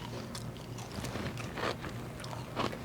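Crisp bites into a delicate, fragile lace cookie, a few close crunching bursts spaced irregularly over soft chewing, with no talking.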